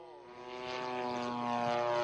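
A propeller airplane on a training flight drones steadily with a harmonic engine note that grows gradually louder, heard alone with no talk.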